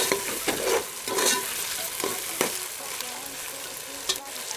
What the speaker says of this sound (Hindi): ये भी इसी में डाल के अच्छे से भून लेंगे।